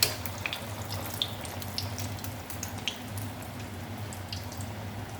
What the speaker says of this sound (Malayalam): ഇനി ഇത് പൊരിച്ചെടുക്കാം. ചൂടായ എണ്ണയിലേക്ക് നമ്മൾ ഓരോന്നായി ഇട്ട് കൊടുക്കുന്നുണ്ട്.